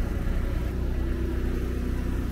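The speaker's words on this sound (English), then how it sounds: "the car is kind of really cold, so I'm gonna give it like 30 minutes to warm up" A cold car engine idles to warm up, a steady low rumble and whir close by, unchanging and continuous with no voices.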